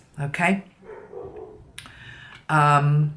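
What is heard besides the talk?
dog barking in the background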